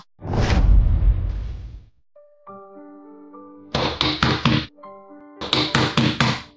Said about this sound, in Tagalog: Sino ba yung katok ng katok dyan?